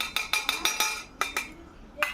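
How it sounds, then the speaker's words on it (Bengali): Metal spoon clinking against the sides of a pot while stirring caramel dissolved into milk for homemade yogurt, a quick run of about six sharp taps, a pause, then a few more, close and clear. "আর একটু নাড়াচাড়া করে নেব।"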